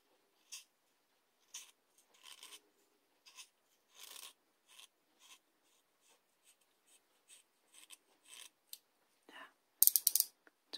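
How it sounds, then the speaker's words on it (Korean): Scattered scraping and crunching strokes of a pencil point being sharpened, irregular and close, quiet, with a few louder rasping bursts near the end. "연필 심 깎는 소리"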